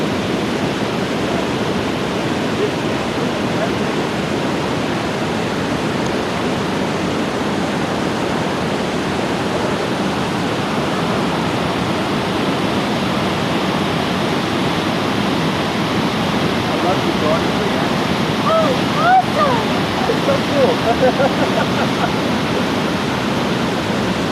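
A steady roar of falling water fills the scene, broad and constant like a big waterfall in Minnewaska State Park, with a faint voice briefly near the end.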